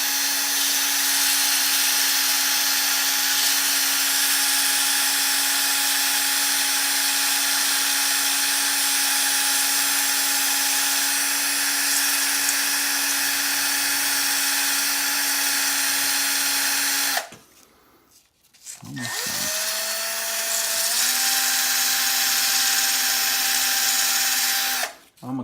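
A handheld power tool whines steadily at high speed while cleaning up a ring made from a rupee coin, running long and close, briefly cutting out and then spinning back up.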